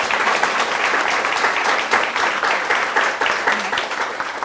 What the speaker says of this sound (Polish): przywitajcie Państwo go oklaskami